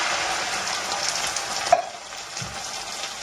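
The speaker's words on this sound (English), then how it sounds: "Let's chuck a can of tomatoes in." Canned tomatoes tipped into a hot frying pan over softened onions, hissing in a steady close sizzle with a brief clatter midway as they are stirred, no voices.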